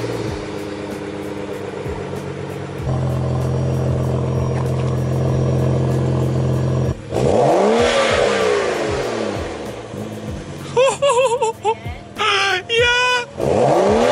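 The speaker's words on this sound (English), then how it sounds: "And now Maria, she's gonna start it up for the first time. Cold start" A 2011 BMW E92 with a muffler-deleted exhaust cranks and starts with a loud, rough, close bark, settles into a throbbing idle, then snaps through several sharp revs while people talk and exclaim over it.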